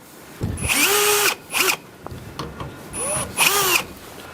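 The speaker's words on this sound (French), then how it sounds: "j'ai vissé le verrou du bas avec de la même façon des rondelles ici pour compenser l'épaisseur du montant" A power drill driving screws to fix a lower door bolt on an insulated garden shed, loud whining bursts that ramp up and wind down, two longer runs and two shorter ones separated by brief pauses.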